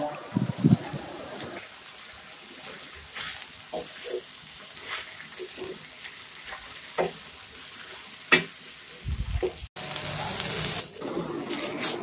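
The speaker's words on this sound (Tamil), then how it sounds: "ஒரு ரெண்டு நிமிஷம் நல்லா வதக்கி விடுங்க" Mint and coriander leaves with salt being sautéed in a pan for a Tamil mint-coriander chutney, giving a low sizzle with intermittent stirring scrapes and clinks, then a brief louder burst of running water near the end.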